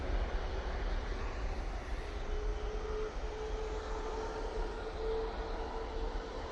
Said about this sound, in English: Air tanker going out.